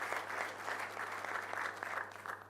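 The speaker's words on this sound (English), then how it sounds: "I would like to have a very warm applause to our three speakers" An audience at a university-hosted conference applauds its three speakers. The clapping is steady and fairly distant, sustained without a break over a quiet hall.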